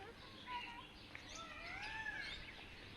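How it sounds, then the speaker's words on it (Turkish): Several birds of varied species at a zoo chirp and whistle in varied high calls, overlapping against a steady background hum at moderate distance. "A değişik kuş türleri."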